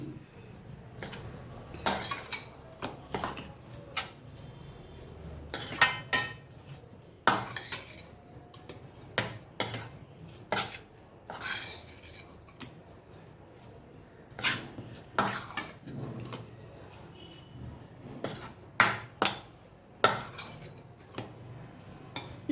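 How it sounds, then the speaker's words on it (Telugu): Grated potatoes are stirred together in a bowl for an evening snack, with irregular clinks and scrapes of a utensil against the dish, close and unhurried, no speech. "ఇది కలపాలి మంచిగా ఇట్లా అంతా కలిసేలా కలపాలన్నట్టు"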